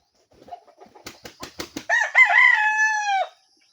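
On a farm, a rooster gives a single loud crow after a few soft clucks and sharp taps, close by in otherwise quiet surroundings.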